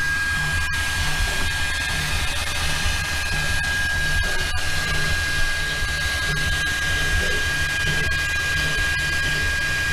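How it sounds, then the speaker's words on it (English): An Anycubic Mega Pro 3D printer runs in a workshop, giving a steady, loud hiss and fan-like whir with faint clicks, unbroken and without voices. "I hope the printer noise isn't too much"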